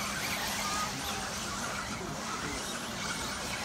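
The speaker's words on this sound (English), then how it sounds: "Just watch the speed of this car onto the straight now." 4wd RC racing car screaming down the straight at a race track, a steady high-pitched motor whine with faint tyre squeal, continuous and fairly distant, with a commentator's voice faintly underneath.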